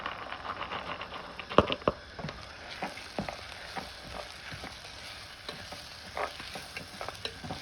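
Green pigeon peas stirred in a frying pan, with a soft continuous sizzle under irregular scraping and clinking strokes of a spoon, close and fairly quiet.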